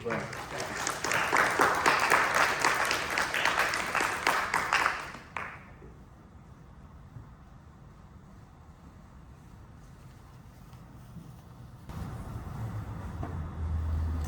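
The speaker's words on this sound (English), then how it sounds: "please round of applause to the welcome team" A Sunday service congregation at the Fresno Betsuin temple applauds the welcome team with a few seconds of loud, close clapping that stops abruptly, leaving quiet room noise.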